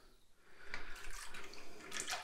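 Cold water runs from a tap at a sink for a head shave, a soft splashing flow that starts quietly and swells into uneven gurgling bursts, fairly close and heard alone.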